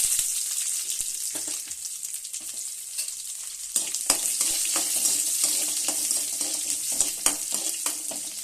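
Grated coconut and small shallots sizzle and crackle steadily in a hot pan, a close, continuous frying hiss with occasional stirring clicks and scrapes, and no talking.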